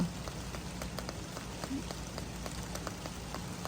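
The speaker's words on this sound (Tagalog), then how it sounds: "Malakas yung ulan dito ngayon." Heavy rain falls steadily in Regina, Saskatchewan, a dense continuous hiss with scattered nearby drop taps, close and moderately loud with no voices.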